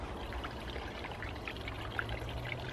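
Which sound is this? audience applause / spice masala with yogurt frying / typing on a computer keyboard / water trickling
water trickling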